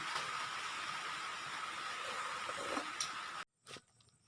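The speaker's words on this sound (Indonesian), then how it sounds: "pas lagi hujan." Rain pours steadily outdoors as a dense, even hiss that continues for several seconds, then cuts off abruptly near the end, leaving near silence with a faint brief knock.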